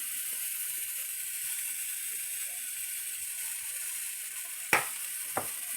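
Eggs fry in a skillet with a faint, steady hiss of sizzling, broken near the end by two sharp clicks or scrapes close by.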